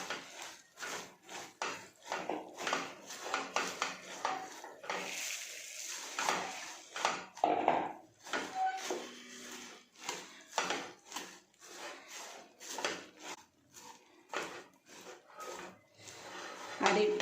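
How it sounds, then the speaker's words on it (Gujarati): Puffed rice (mamra) ladoo mixture with jaggery syrup being stirred in a pan: repeated dry, rustling scrapes and rubs in an uneven rhythm, fairly close, with occasional light clinks. "આપણે થોડીક વાર માટે હલાવે જઈશું અને બધું બરાબર મિક્સ કરી લઈશું"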